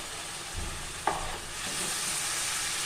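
Tomato paste frying in oil in a pan for a fish masala curry, a steady soft sizzle with a brief clink of a utensil early on.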